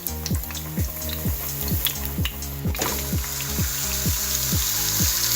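Ground beef frying in a pan for a spaghetti meat sauce, a close crackling sizzle broken by repeated rhythmic scraping and knocking as the meat is mashed and stirred, with no talking.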